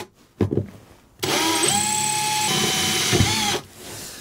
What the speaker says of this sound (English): I am going to drill down.